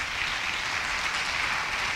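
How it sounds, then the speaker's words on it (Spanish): Church congregation applauding during a sermon, a steady dense wash of clapping that holds evenly for two seconds with no voices over it. "¿Cuántos pueden darle un aplauso de honor a nuestro Dios?"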